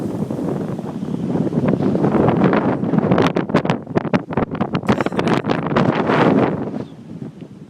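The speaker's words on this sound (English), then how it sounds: "Pretty damn windy." Strong sea wind in Okinawa roars and buffets the microphone continuously, a dense rushing noise that swells and flutters, with faint choppy waves beneath.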